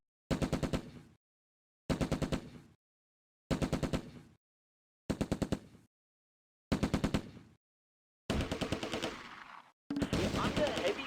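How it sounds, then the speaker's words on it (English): Bursts of machine gun fire from a Sherman tank in a World War II strategy game, seven short rattling volleys spaced evenly apart, the last two longer and rougher. "The Sherman supports them with machine gun fire."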